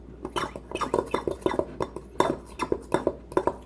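A spoon clinks and scrapes rhythmically against a bowl while biscuit mix powder is stirred into melted butter for cheddar bay biscuits, about a dozen steady close strokes with no talking.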